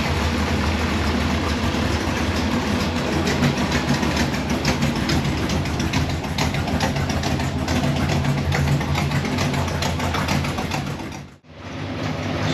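A car engine with wrapped headers idles hot, a steady low rumble holding for about eleven seconds before a brief dropout, then resuming, with no voices over it.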